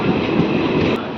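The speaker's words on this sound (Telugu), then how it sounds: "గొల్లపల్లి నుంచి మన ట్రైన్ బయలుదేరింది" A DEMU diesel train pulls out of Gollapalli station on a double-track line between Mahabubnagar and Kacheguda, a loud steady rumble and rolling wheel noise heard close from on board.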